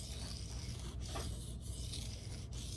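Elmax steel knife blade drawn across a sharpening stone, a soft continuous rasping rub with a few brief strokes, close and quiet, with no voices.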